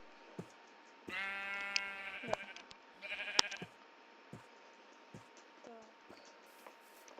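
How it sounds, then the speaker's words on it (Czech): Minecraft sheep bleat in the game, two drawn-out wavering bleats early on amid quiet clicks and game sounds, with a fainter short call later. "mě tady otravují ty ovce"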